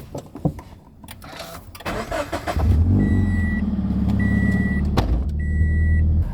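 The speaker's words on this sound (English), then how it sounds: "you guys can kind of hear how the exhaust sounds." Subaru BRZ fitted with a Tomei exhaust starts off quietly, then its engine swells into a loud, steady drone as the car drives away, with faint intermittent beeping tones over the exhaust note.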